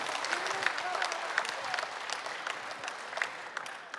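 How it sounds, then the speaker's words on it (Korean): An audience at a public radio health concert on a hospital's special stage applauds a neurosurgery professor's talk with steady, moderately distant clapping and scattered sharper claps. "다시 한번 박수 부탁드릴게요"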